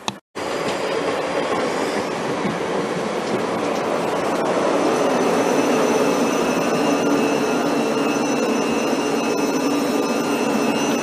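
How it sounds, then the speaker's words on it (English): A train rumbles loudly and steadily nearby as it pulls into Bracknell station, its broad roar and metallic whine continuing without a break. "I'll cut to you when the train arrives"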